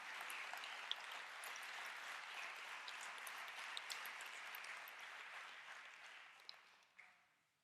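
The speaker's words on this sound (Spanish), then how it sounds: "Si va a darle un aplauso al Señor, déselo con fuerza" A church congregation applauding during a sermon, a faint but continuous patter of many hands clapping that gradually thins out and stops near the end.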